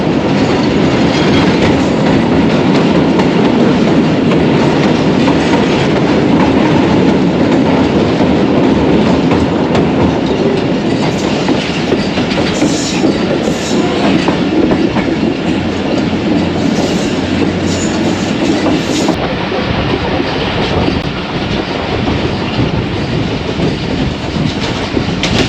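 The 101UP Subak Raftar passenger train runs on rails near Lahore on a foggy morning, a loud continuous rumble with rhythmic clatter of wheels, heard from on board with no voices.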